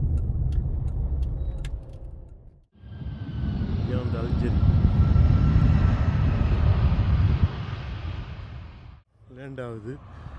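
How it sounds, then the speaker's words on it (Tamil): A Boeing 747 cargo jet lands at a four-runway airport, its broad roaring rumble swelling loud and steady for several seconds before cutting off, with someone talking before and after. "Boeing seven four seven flight land ஆகுது"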